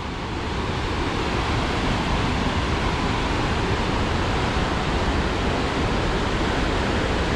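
River rapids rush beside Bulls Covered Bridge, a loud, steady roar of churning water that fills the scene close up with no break and no voices.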